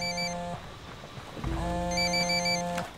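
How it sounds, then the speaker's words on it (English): A phone rings in the video game Ghost Recon Wildlands with a steady electronic tone, sounding in two bursts separated by a short pause over quiet ambient background noise. "That's no IED. It's ringing too much. Find it. There's the phone."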